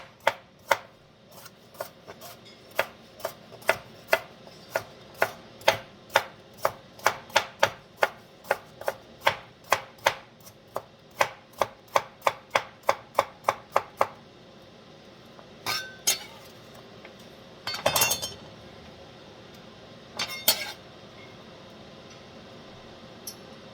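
Carrots being sliced with a knife while cooking a Jamaican-style Sunday dinner: a quick, regular run of sharp chops for about fourteen seconds, then a few scattered cuts and light clinks, with no talking.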